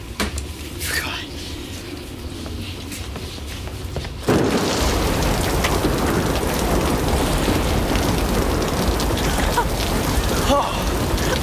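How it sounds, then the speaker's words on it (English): Heavy rain pours during a storm with thunder in a movie scene, quieter at first and then abruptly swelling into a loud, dense downpour that continues steadily with occasional rumbles. "I love storms."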